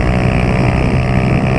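Honda Titan 150 motorcycle with a Pro Tork exhaust revving hard, a loud, steady, close engine roar with a throaty rumble that holds for the whole short stretch with no talk.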